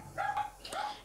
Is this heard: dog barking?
yes